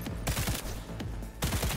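Rapid bursts of smart gun fire in the video game Cyberpunk 2077, loud close automatic shots in two clusters with a brief lull between them.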